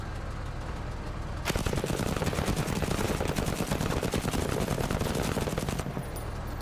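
Gunfire in the war game Menace: after a quiet start, a long, loud stretch of rapid automatic fire with steady repeated shots, stopping abruptly near the end.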